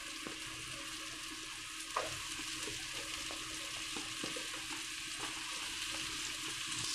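Carrots and potatoes stir-fried with softened tomatoes in a pan, a steady close sizzle with scattered scraping stirs and a few louder clinks, no talking.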